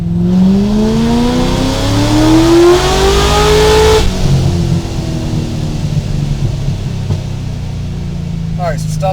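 A supercharged 700hp Corvette pulls hard in third gear toward about 6,000 rpm, its engine note climbing steadily and loud for about four seconds before lifting off into a lower, rumbling idle-like drone.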